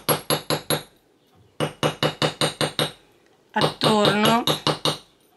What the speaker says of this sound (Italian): io prendo il martello e vado a battere